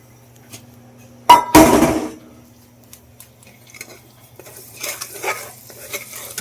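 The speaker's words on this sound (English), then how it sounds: "as soon as it gets warm, I'm going to add the garlic. Garlic in." Garlic dropped into a warm pan for garlic fried rice gives a loud burst of sizzling that quickly settles into softer crackling, with a few light utensil clinks and stirring noises afterward. No one speaks.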